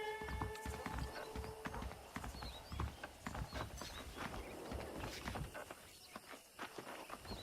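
Horse hooves clip-clop in a steady walking rhythm with an occasional neigh in the Red Dead Redemption game on Xbox 360, set among birdsong and ambient outdoor sound, close and moderately loud with no talking.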